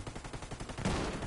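A rapid, rhythmic burst of automatic gunfire in a video game shooter, fairly faint and muffled, with a heavier impact near the end.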